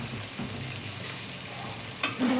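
Chopped fenugreek leaves fry in a pan, a continuous close sizzle with light stirring and one brief clink near the end, with no voices.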